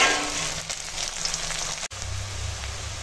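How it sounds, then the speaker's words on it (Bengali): Chopped onion fries in oil with dry red chillies, five-spice seeds and bay leaf, giving a steady close hiss. A brief break comes near the end, followed by a low rumble under the continuing sizzle. "সব একসঙ্গে ভাজি।"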